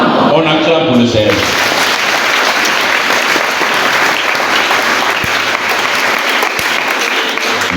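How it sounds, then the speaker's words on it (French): Church congregation applauding and cheering for the Lord during a parish priest's installation service, a dense, loud, sustained wash of clapping from a large crowd, with a brief sung or spoken phrase at the very start. "On acclame pour le Seigneur."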